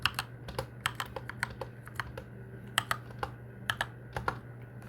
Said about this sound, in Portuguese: Agora, vamos digitar o número que está dentro da matriz.